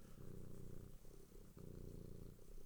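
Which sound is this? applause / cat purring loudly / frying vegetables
cat purring loudly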